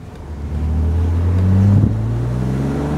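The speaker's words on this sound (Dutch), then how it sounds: "Kleine plofjes uit de uitlaat bij gas los." A BMW Z3 roadster runs close by with a steady low engine drone, its pitch briefly sweeping up and then settling as the throttle is lifted, with some wind buffeting the microphone.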